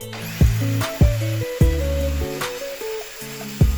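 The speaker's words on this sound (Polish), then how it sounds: "Po wszystkim docinam drewno na plasterki." A power saw slices a wooden trunk into thick discs, its motor droning in stepped pitches with sharp knocks each time the blade bites or the load shifts.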